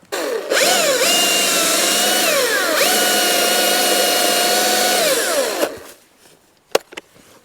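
A Husqvarna electric chainsaw cuts through wood gathered for a campfire, a loud, steady whine that dips in pitch under load for about five seconds, then stops, leaving a few faint knocks and rustles.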